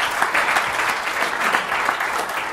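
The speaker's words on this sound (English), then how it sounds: "Give them a big round of applause" Seminar audience gives a steady, dense round of applause, loud and continuous throughout with no speech over it.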